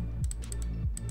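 An Ardor gaming mouse button is pressed in a quick series of sharp, close clicks that come in small clusters over a low background hum.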